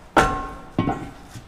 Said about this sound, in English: George is gonna beat the fucking drum with the hammer